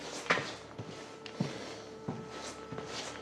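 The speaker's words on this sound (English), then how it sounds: "Let me close that door before it slams and scares me." A door being closed inside an abandoned building, heard as several soft knocks and a light wooden creak and bump over a low, hollow room ambience.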